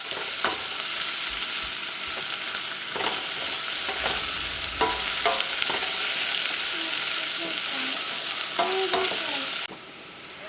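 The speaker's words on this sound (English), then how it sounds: "fry them till they are a little golden in color." Boiled eggs and peas frying in a pan for a Bengali yellow peas curry, with a constant close sizzle and occasional stirring clicks of a utensil, no talk.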